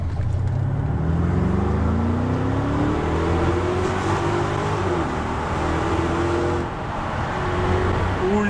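A car accelerates hard from close by, its engine note sweeping steadily upward, dipping briefly at an upshift near the end and then climbing again.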